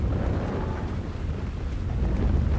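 Storm with thunder in the Alan Wake 2 video game, a loud, continuous low rumble with wind and rain texture filling the whole stretch, close and heavy, with no speech.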